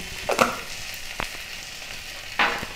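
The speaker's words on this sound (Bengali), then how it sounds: "এবার ভালো করে ভেজে নেব।" Turmeric powder and salt frying in a pan for an omelet curry, a faint steady sizzle broken by a few short scraping stirs, quiet and close with no talking.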